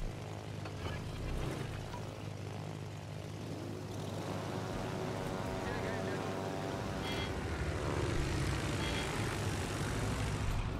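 Propeller engine drone of skip bombers in World of Warships, a continuous rumbling buzz that swells slightly as the aircraft pass, with talk over it.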